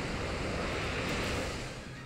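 The Waterfall move in a competitive Pokémon video game battle, a steady rushing wash of water that holds loud and unbroken for about two seconds.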